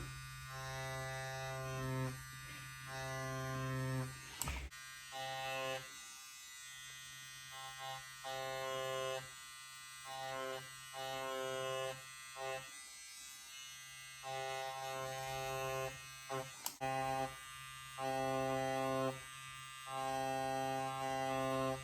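A tattoo machine buzzes steadily and faintly, its hum starting and stopping in short bursts across the whole stretch.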